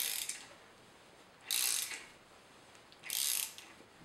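A hand tool ratchets as a thread repair insert is driven into a spark plug hole on a Porsche 911 engine, giving two short bursts of clicking separated by quiet pauses, close and clear.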